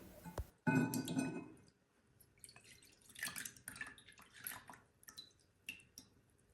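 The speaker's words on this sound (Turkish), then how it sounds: "Hazırlamış olduğum toz zerdeçal karışımı soğudu. Şimdi süzüyorum." Cooled turmeric powder mixture strained through a sieve, opening with a clink of glass followed by a short pour, then soft intermittent drips and trickles, close and quiet.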